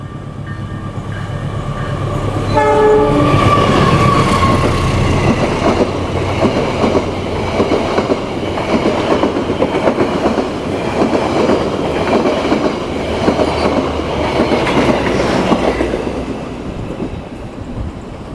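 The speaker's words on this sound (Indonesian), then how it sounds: "itu dia kereta api Argo Wilis telah melintas langsung di stasiun Indihiyang" Argo Wilis express train running straight through a station without stopping, a loud, close roar of wagons with rapid rhythmic clickety-clack of wheels over rail joints sustained for the whole pass, no voices.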